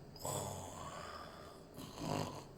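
A voice imitating snoring, two drawn-out rasping snore breaths with a short pause between them, close and fairly quiet.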